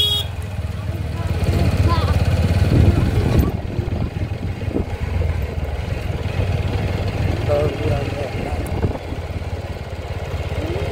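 A motorcycle ridden along a city road, its steady engine drone running continuously and fairly close, with traffic and street noise mixed in throughout.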